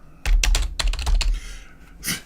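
A computer keyboard clatters nearby in quick bursts of keystrokes with short gaps, ending in a softer tap.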